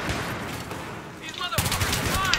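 ACWR assault rifle bursts out in Battlefield 3 Gun Master on a 64-player server, a quieter stretch giving way to loud rapid gunfire in the final second, dense cracks close by.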